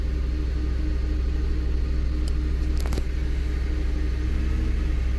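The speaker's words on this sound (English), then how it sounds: "the RPMs just increased on their own" A car engine idles during an emissions test with its RPMs rising on their own, a constant low steady hum, close and alone, with a few faint clicks midway.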